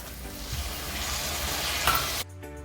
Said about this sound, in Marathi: इथे मिश्रण दोन मिनिटं छान परतवून झालेलं आहे टॅमेटो ही मऊ झालेलं आहे